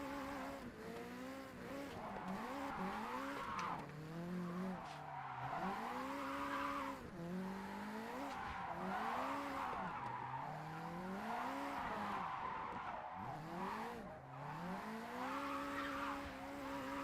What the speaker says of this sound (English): I like how there's long drift and there's also very long drift.